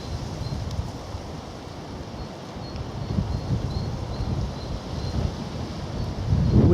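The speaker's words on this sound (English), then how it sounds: "The wind's picking up, I notice." Wind blowing across the microphone on a winter country walk near Shoreham, a continuous low rumbling buffet that grows gustier and louder toward the end, with faint rustling.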